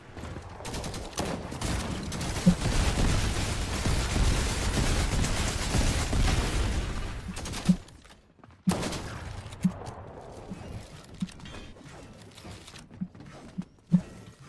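Explosions and gunfire in a ranked Fortnite match: a dense barrage of blasts and shots for several seconds, then a short lull followed by scattered single sharp impacts.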